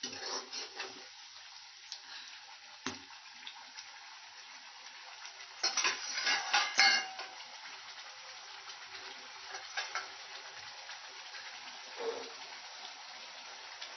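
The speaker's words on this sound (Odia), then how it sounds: "ଟିକେ ପାଣି ଦେଲି ମସଲାଟା କଷିବାକୁ" Masala being stirred and fried with a splash of water in a pan over a chulha stove: soft, quiet scraping and sizzling throughout, with a louder burst of stirring and clatter midway.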